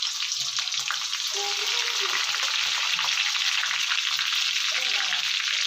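Cumin seeds and chopped green chilli sizzle loudly in hot oil, a dense continuous frying hiss close up with faint murmuring voices underneath.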